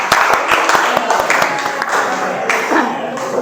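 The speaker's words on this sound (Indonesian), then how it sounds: "Ya, tepuk tangan ya untuk kelompok 1 ya." A classroom group claps for the first group's presentation, a burst of quick, uneven hand claps close by that stays lively for a few seconds and then thins out.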